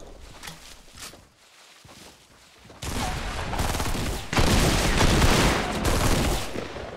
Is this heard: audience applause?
no